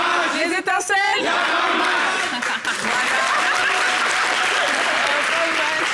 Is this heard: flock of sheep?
no